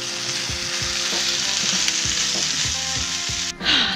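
Bacon frying in a pan, a strong steady sizzle with crackles and stirring knocks, heard up close without speech until a short break near the end.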